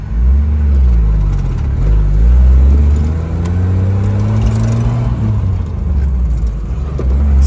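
A 1988 Jeep Wrangler YJ with a BA10 manual transmission and an upgraded master clutch cylinder, its engine droning loud and close as it revs and shifts into second gear, the pitch dipping and rising again.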